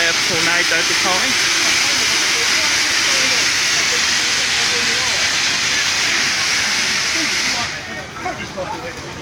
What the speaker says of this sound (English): Shot there of tornado departing.